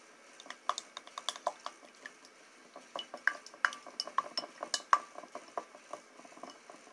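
Slime being mixed by hand in a bowl, a steady stream of small clicking, tapping and squelching sounds with irregular rhythm, fairly faint and close, no talking.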